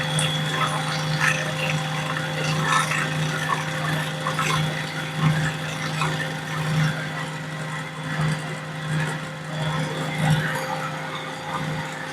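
Homemade mayonnaise being blended while water goes in as a thin stream; a steady electric blender drone hums for the whole stretch with faint liquid swishing underneath, and no one speaks.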